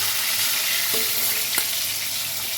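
Rohu fish fries in a kadai, giving a continuous close sizzle with faint stirring and one brief metallic clink partway through. Nobody speaks.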